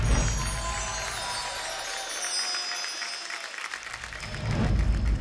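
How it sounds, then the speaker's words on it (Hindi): Studio audience applause and cheering on a televised Indian dance competition stage, a loud wash that dips briefly in the middle before swelling again at the end. "तो तालियां हो जाए भावना के लिए एंड दीपिका के लिए"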